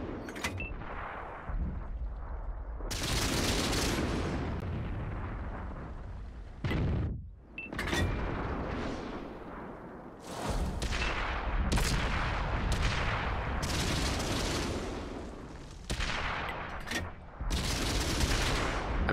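Tank cannon fire from a BT-7 in World of Tanks, with repeated loud booming shots and rumbling impacts throughout, some in quick bursts, set against constant engine and battle noise.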